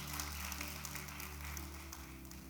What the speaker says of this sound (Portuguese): Aleluia, aplauda isso, meu Deus.